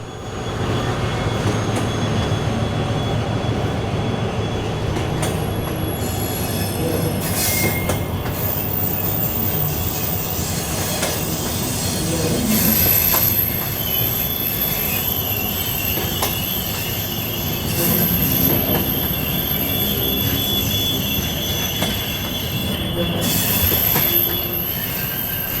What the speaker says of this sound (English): It's seen here shunting the loaded double-deck car transporter wagons onto the back of the overnight train